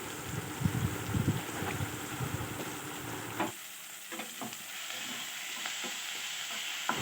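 Ground turmeric, chilli, cumin and coriander powders with salt being stirred and fried in a pan for pea ghugni, a steady close sizzle with scraping stir strokes, louder at first and thinner after a few seconds.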